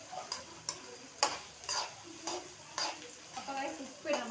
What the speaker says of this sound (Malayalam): ഇനി നന്നായിട്ട് ഇളക്കണം. നന്നായിട്ട് ഇളക്കണം.